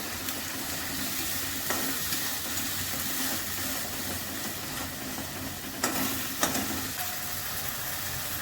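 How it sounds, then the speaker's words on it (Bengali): Chilli and cumin powder masala frying in a pan, a steady close sizzle with occasional stirring scrapes and clinks, no talk over it. "লঙ্কার গুঁড়ো জিরে গুঁড়ো মশলাটা ভালো করে কষিয়ে নেব"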